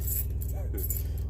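Keys jangle briefly with light metallic clinks over the steady low rumble of an idling truck engine.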